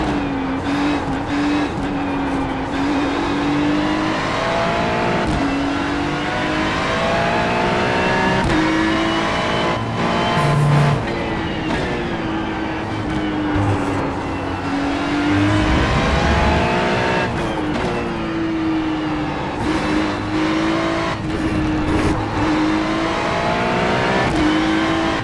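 A Ferrari GT3 race car in the iRacing simulator at VIR, its engine loud and close as it revs up through the gears, with rising and falling pitch, gear shifts and a few brief tyre squeals.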